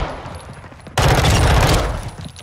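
Rapid automatic gunfire in Warzone 2.0 DMZ as a player shoots down a bot, a loud sustained burst that kicks in after a quieter stretch of distant shots and game ambience.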